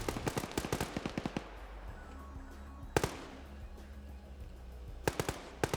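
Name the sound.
RPG hits and gunfire in a military video game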